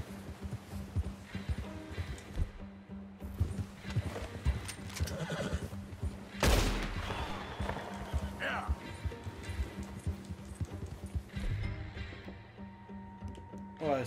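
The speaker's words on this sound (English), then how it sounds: "Let's go, horse." A horse in Red Dead Redemption 2 gallops with rapid, rhythmic hoofbeats and gives a loud neigh partway through, set against in-game ambience and layered sound.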